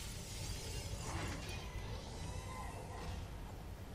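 Glass breaking in the Dead Space 2 game, a dense crash of shattering shards spread over about four seconds, with scraping, rattling debris and steady loud noise throughout and no talk.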